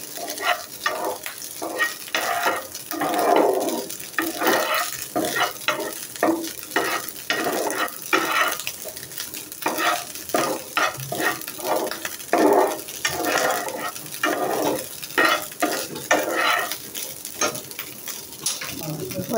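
Khichuri rice stir-fried in a pan, a steady sizzle with repeated scraping strokes of a spoon or spatula against the pan, continuing close and fairly loud throughout with no talking.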